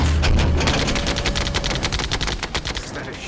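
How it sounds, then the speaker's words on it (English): A ship's Phalanx close-in weapon system fires in an action-film battle against an incoming missile, a dense rapid burst of shots starting with a heavy low boom and rattling on loudly, with brief speech nearby. "Weapons, activate phalanx."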